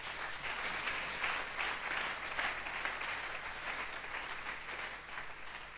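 A church congregation claps and cheers in sustained, dense applause that stays loud and even throughout, with no single voice standing out.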